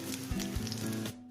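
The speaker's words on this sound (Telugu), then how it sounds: "ఇప్పుడు అరటికాయ ముందుగా కట్ చేసుకున్నవన్నీ ఇలా వేసుకోవాలి." Chopped raw plantain hits hot oil already crackling with dal and curry leaves, bursting into a loud, close sizzle with a few sharp pops, then the frying cuts off abruptly near the end.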